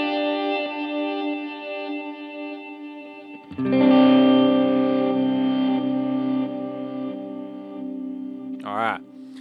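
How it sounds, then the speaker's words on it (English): A sustained electric guitar chord drenched in reverb blooms into a wide, washy tail that decays gradually, ending with a brief voice. "Add some reverb."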